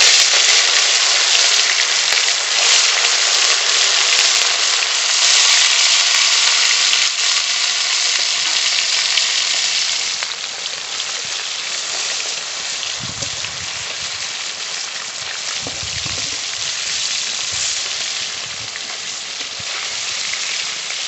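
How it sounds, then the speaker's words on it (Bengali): Pieces of a large katla fish fry in hot mustard oil in a heated kadai, giving a loud, steady, dense sizzle that crackles continuously and eases slightly partway through, with soft stirring knocks near the end. "কড়াই গরম হয়ে গেছে, সর্ষের তেল দেব। তেল গরম হয়ে গেছে, মাছ দিয়ে দেব।"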